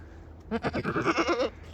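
Goats on a small farm give a single close, wavering bleat of about one second, loud against a quiet background.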